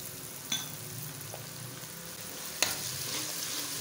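Crushed ginger and garlic fry with half-browned onions in a pan for a Pakistani masoor dal, giving a steady low sizzle with a couple of faint clinks of a utensil.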